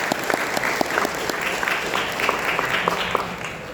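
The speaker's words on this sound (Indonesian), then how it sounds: "Tepuk tangan semua, 14 tahun ke BMS." A crowd claps steadily at a seminar celebrating PT Berlian Manyar Sejahtera's 14th company anniversary, the dense applause punctuated by sharper individual claps throughout.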